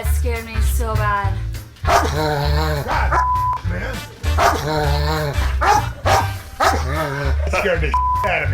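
A dog barks repeatedly and loudly, close by, in uneven bursts over a harmonic, musical-sounding background.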